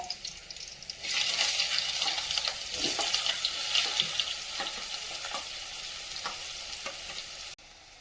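Garlic cloves, asafoetida and finely chopped onion dropped into a hot pan for a valpapdi bean dish: a sizzle bursts in after a quiet second and crackles steadily and fairly loudly before dropping off abruptly at the end.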